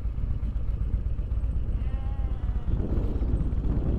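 Sheep bleat from a small pen in high-altitude countryside along Argentina's Ruta 40, a few close, wavering cries over the steady low rumble of a passing vehicle engine.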